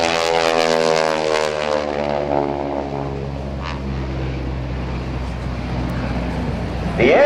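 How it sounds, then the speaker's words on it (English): A propeller aircraft engine roars at about 2,300 RPM at an airshow, a loud buzzing growl with a sharp snapping edge from the supersonic propeller tips that gradually settles into a broad, steady drone. "The engine has a nice low rumble, but those propeller tips really give it a snap."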